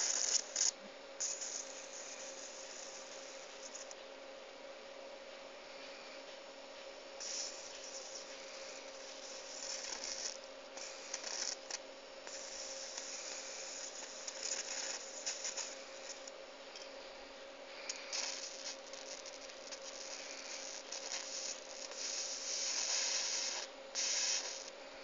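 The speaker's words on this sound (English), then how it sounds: "The arcs are good centimeter long." A hand-wound flyback transformer throws centimeter-long high-voltage arcs. A steady, faint hiss with a crackling, spitting texture and a constant tonal hum continues for about 25 seconds, and no voice is heard.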